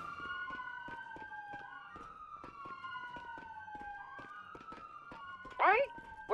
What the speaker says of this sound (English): Sirens. Why is there sirens?